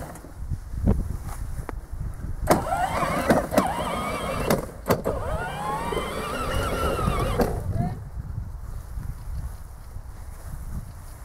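A 12V battery-powered children's ride-on toy car runs briefly under radio control, its electric motor whining in short bursts with clicks and rustling nearby, while a voice speaks over part of it.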